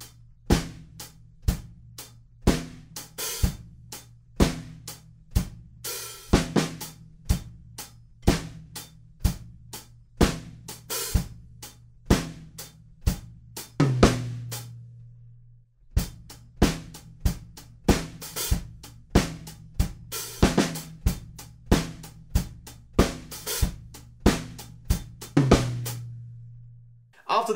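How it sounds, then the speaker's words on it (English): A drum kit plays a verse groove from a song, steady eighth-note hi-hats over kick and snare in a clear repeating pattern, close and loud, with a brief pause midway before the groove resumes. "we're just going to play pretty much the same groove, but we're just going to scale that back to 8th notes on the hi-hats"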